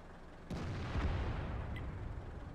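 A tank gun firing in World of Tanks, the IS-2 heavy tank: one deep boom with a low rumble rolling on for about two seconds, alone without talk.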